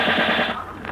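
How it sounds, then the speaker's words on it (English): Rapid burst of machine-gun fire in an infantry setting, a dense, continuous rattle with evenly spaced low thumps, loud and close, with no talk over it. "Hey, those are bullets."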